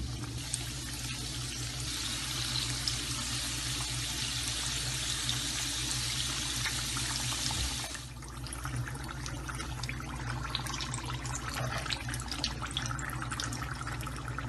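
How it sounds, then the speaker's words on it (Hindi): Macaroni samosas fry in medium-hot oil, giving a steady, dense sizzle that runs the whole time, slightly thinner in the second half, with no talking. "समोसे बिल्कुल रेडी है फ्राई करने के लिए, तो अब हम फ्राई करते हैं।"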